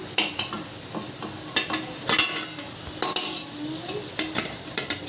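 Sapala flower fritters frying in a wok, with a steady sizzle of hot oil broken by repeated sharp scrapes and clinks of a ladle against the pan, close and loud, no voices.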